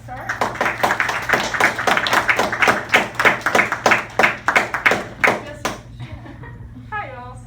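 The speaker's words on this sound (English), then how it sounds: "Let's give her a round of applause to start" An audience gives a round of applause at an event introducing a speaker's daughter, a run of distinct close claps that thins out and stops, with a brief voice at the end.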